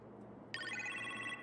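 A telephone rings in the video game Iron Man VR, one bright electronic trill starting abruptly and sustained for about a second, heard clearly over a quiet background hum.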